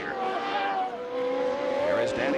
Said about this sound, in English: The engine doesn't sound as crisp as it has been every time it's gone by us in the front straight here.